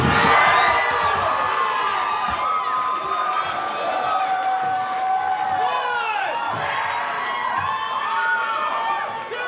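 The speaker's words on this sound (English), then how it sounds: "Did they cheer Rook just now?" A backyard wrestling show crowd cheers and shouts, a loud continuous mix of whoops, yells and high excited voices with rising and falling calls, lively and close throughout, with talk among the noise.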